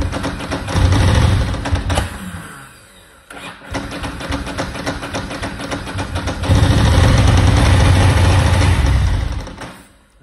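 A Ducati Monster 900 motorcycle engine being coaxed to run on choke, coughing and dipping, then catching and idling loud and close with throttle blips before cutting out.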